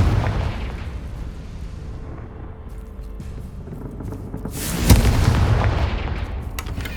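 A Confringo spell bursts in Hogwarts Legacy with a booming explosive blast and crackling debris, following a quieter, rumbling stretch.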